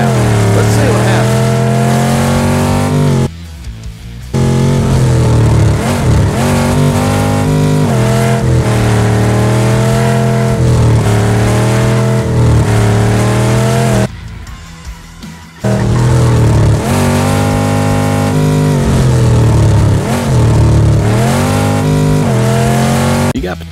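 Drag racing car engine in the Street Outlaws: The List video game, revving loudly and steadily with rising and falling pitch, broken by two short near-silent gaps, with possible talk mixed in.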